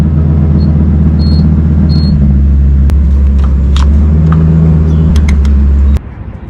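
A car driving along the road, its loud engine rumble and tire drone steady and close from inside the cabin, with a few small clicks and rattles before the noise drops away near the end.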